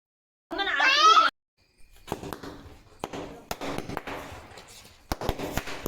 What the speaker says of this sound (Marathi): तुळशीचं लग्न लावल्यानंतर फटाके वाजवायचे असतात